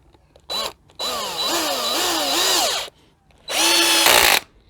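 A LIDL Parkside cordless impact driver drives a big screw in three bursts: a short one, a long whining rattling run, then another burst. The motor whine rises and falls throughout, with no talking.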